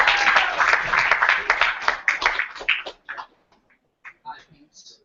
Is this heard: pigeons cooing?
no